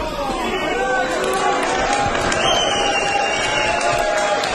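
Big, amped-up crowd at a NOAH pro wrestling event in Coventry, a dense continuous roar of cheering and chatter filling the venue with a few shouts poking through, loud and close throughout.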